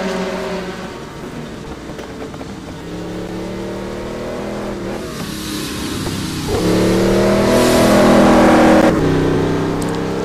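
A Koenigsegg race car in a racing video game at Suzuka, its engine droning loud and steady, pitch climbing and dropping through gear changes, with a surge to a higher rev near the end.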